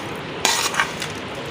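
Grated raw mango being stirred and mixed with spices for achaar, with a few short scraping, clinking strokes of a utensil against a bowl, fairly close and alone.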